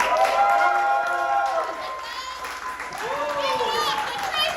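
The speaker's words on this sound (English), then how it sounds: "we're gonna practice giving her like the biggest applause possible" Loud comedy club audience at Laughamania, The Cave Inn, Woolloongabba, applauding hard with dense steady clapping, whoops and shouted voices riding on top, easing slightly midway before swelling again.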